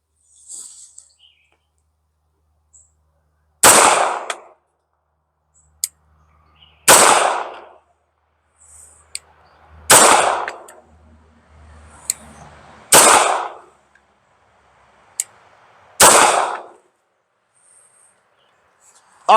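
9mm pistol shots fired one at a time with steel-case 115-grain FMJ ammunition at 6-inch steel targets 25 yards downrange; six loud sharp reports spaced about three seconds apart, separated by quiet gaps and faint distant clinks.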